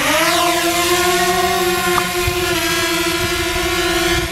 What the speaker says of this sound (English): I'm flying the drone